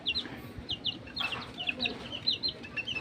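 Baby chicks about a month old on a backyard farm cheep and peep in quick, high, overlapping chirps. The sound is close and continuous, with faint murmurs behind it.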